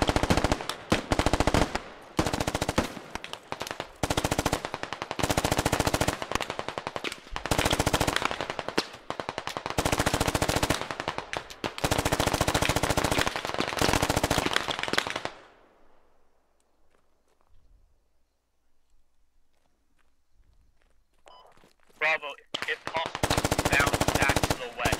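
Sustained machine gun suppressing fire in the Squad video game hammers out in long rapid bursts for about fifteen seconds, close and loud, then falls to near silence before a few more shots and another burst.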